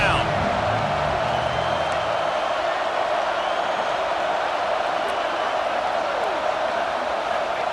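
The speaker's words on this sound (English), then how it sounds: "decibels rising as the crowd gets behind this defense on third down" A stadium crowd in EA Sports College Football 26 roars steadily behind the defense on third down, a loud, continuous wash of cheering that holds at an even level from start to finish.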